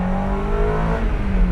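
Honda K20A engine swapped into an NA Mazda Miata, revving hard under acceleration with a loud, steady, rising engine drone and strong harmonic whine throughout.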